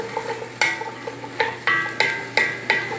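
Vegetables sauté in butter for shrimp creole, with a faint sizzle under a rhythmic run of close metallic clinks and scrapes from a utensil against the pan.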